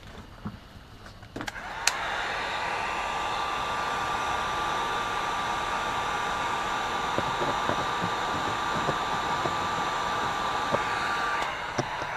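A heat gun blows while shrinking heat shrink tubing over a wire joint, switching on after a couple of handling clicks and then holding a steady, loud, close airy whine and hiss until it cuts off near the end.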